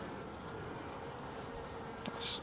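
Honeybees buzz around a hive comb during a hive split, a faint continuous drone close by with a brief louder pass of a single bee near the end.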